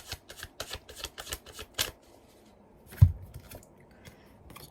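Tarot cards shuffled in a quick run of crisp riffling snaps, followed by a pause and then a single soft thud as a card is drawn and set down, close and quiet with no talking.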